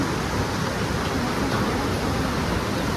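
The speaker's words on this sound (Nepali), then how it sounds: "लु तल चाहिँ खोला रहेछ, एकदमै ठुलो देख्न सक्नुहुन्छ।" A large river rushes below a footbridge on a mountain trek near Ghandruk in Nepal, giving a dense, steady roar of turbulent water with no break, loud and close.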